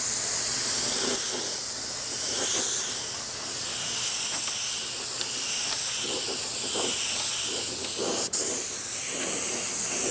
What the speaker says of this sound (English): we're going to control the flow of our primer and the overspray by our trigger.